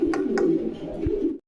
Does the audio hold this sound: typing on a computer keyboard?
no